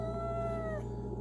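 A cat meows close by in one drawn-out, falling cry over a steady low hum, with no talking.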